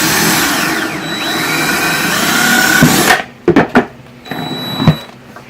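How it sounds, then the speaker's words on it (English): Power drill boring a hole in the bottom of a rubber-washered fitting, a steady loud whine for about three seconds, then stopping, followed by a few short clunks and handling knocks. "What you need to do is to drill an appropriate sized hole in the bottom here"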